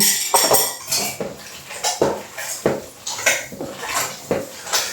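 Minced meat for kabanos sausages is mixed with water in a bowl, making a rhythmic run of clinks, scrapes and wet knocks from a utensil, close and fairly loud.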